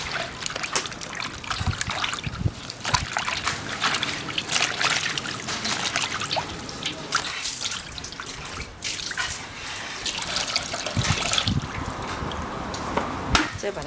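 Pork belly being washed under a running kitchen tap: continuous splashing and trickling water with irregular handling splashes and faint clatter, close and steady throughout.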